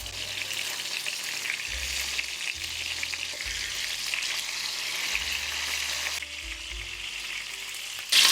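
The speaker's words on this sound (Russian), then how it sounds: "Выкладываю на сковородку куриные бедра кожей вниз. Обжариваю их до золотистой румяной корочки" Steady, loud sizzling and crackling of chicken thighs frying skin-side down in a hot pan, continuous throughout with a brief louder burst at the very end.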